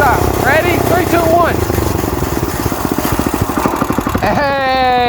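A cheap Amazon mini bike's small engine putters and pulses up close, with an excited voice speaking over the top and a steady buzzing tone at the end.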